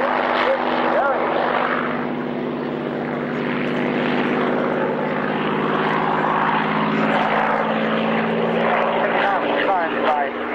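An Italian G59 fighter, a modified G55 powered by a Rolls-Royce Merlin engine, roars past at an airshow with a loud, steady propeller drone throughout, a commentator talking over it.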